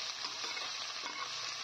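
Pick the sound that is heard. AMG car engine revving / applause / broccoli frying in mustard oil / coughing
broccoli frying in mustard oil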